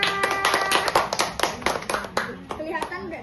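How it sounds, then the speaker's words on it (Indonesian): A classroom of children clapping hands together in a burst of quick, uneven claps, loud and close, with a teacher's voice and children's chatter underneath. "Tepuk tangan untuk Aisyah"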